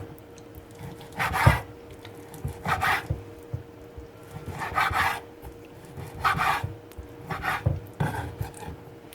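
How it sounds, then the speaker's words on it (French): A knife cuts speck into tiny pieces on a board, giving a series of close rasping, scraping strokes in irregular bursts separated by short pauses, with no talk. "Il faut les découper en tout petits morceaux."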